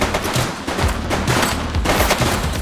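Gunshots in the police video game The Precinct: a continuous rattle of rapid automatic fire, loud and close, with dense overlapping shots and no pauses.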